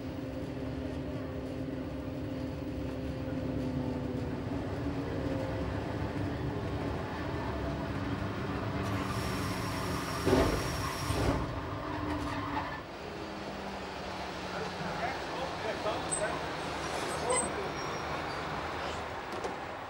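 Swiss VHB Emmental Railways train at Huttwil station, a steady low rumble of wheels and motors with a sharp squeal or horn burst midway, then the rolling noise carrying on more roughly as the train moves.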